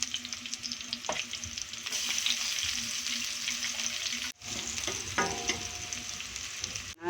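Onion and garlic sautéing in a pan for shrimp and vegetables, a steady close sizzle and fry with stirring scrapes, briefly dropping out midway before resuming.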